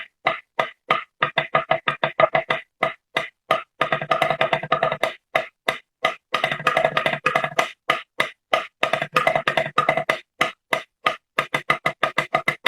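Rapid bursts of drumstick triple strokes on a drum, grouped in quick clusters with short gaps, steady and fairly close, no voices.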